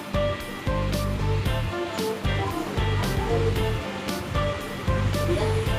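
Ocean surf at Parangtritis beach in Yogyakarta, in front of a beachfront resort, washes in as a steady broadband roar with surging swells, mixed with sustained musical tones and a regular beat.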